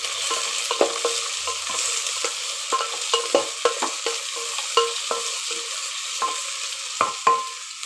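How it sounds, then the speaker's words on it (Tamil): Onions sautéing with whole spices for biryani hiss and crackle steadily as a spoon scrapes and knocks the pot in an irregular rhythm, close and clear with no voices. "வெங்காயம் போட்டு நல்லா வதக்கணும்"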